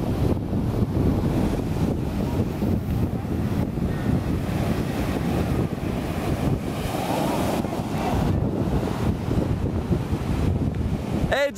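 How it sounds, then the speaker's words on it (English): Atlantic Ocean waves wash onto a beach in Elmina, Ghana, under heavy wind buffeting the microphone, a continuous loud roar of surf and gusts with faint voices in the background. "this is what we call Atlantic Ocean"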